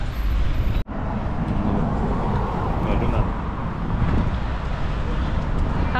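Road traffic in a traffic jam on the way to the Auto Exotica show: a dense, steady roar of vehicles and rumble, with one brief dropout near the start.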